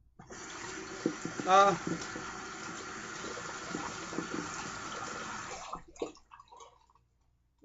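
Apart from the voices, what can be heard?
water splashing while wetting face before shaving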